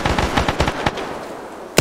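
Rapid bursts of automatic gunfire crackle in a combined arms military video game, several quick volleys in the first second, then a lull before one more sharp shot at the end.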